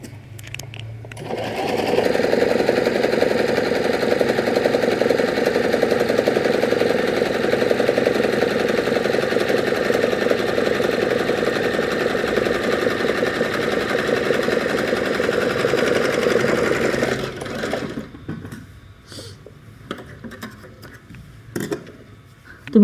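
A sewing machine running steadily for about fifteen seconds, loud and close, with a continuous motor whir and rapid stitching chatter before it stops and leaves a few quiet handling clicks.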